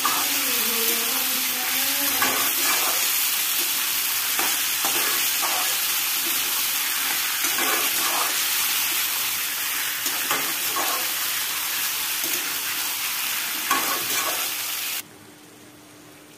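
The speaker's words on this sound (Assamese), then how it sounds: "এতিয়া মই 5 মিনিটমান একেৰাহে মাংসখিনি এনেকৈ লৰাই ভাজি থাকিম" Duck meat sizzles loudly in a hot pan with a continuous crackle, punctuated by repeated scraping strokes of stirring, until the sound abruptly drops away near the end.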